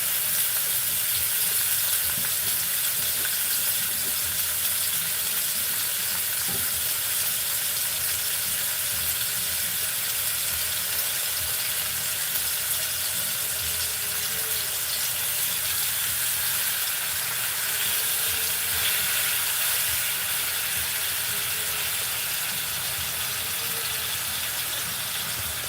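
Meat frying in a pan on a home stove gives a steady, dense sizzle that hisses evenly throughout at moderate loudness, with no talking over it.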